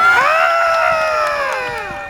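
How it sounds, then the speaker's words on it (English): A street-show crowd screams and shouts together in a loud, sustained roar of many voices, swelling at the start and slowly tapering off. "Scream and shout as I make my great escape in 90 seconds"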